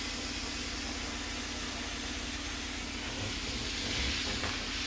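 Steam hisses steadily into a skein of twisted yarn to set the twist, a constant close, faint broadband hiss with a low hum underneath that swells slightly near the end.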